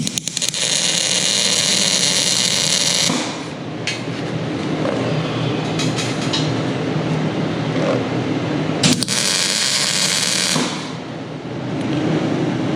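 Metal is tack welded with a loud, harsh, sputtering crackle up close, in several bursts of a few seconds each with short pauses and a louder clatter between them.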